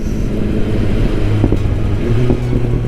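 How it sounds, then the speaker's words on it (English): A 2021 BMW S1000R motorcycle engine revving hard through quick-shifter gear changes, a loud, close, steady engine drone with pitch steps as gears shift. "Quick shifter doing its job, working fantastically."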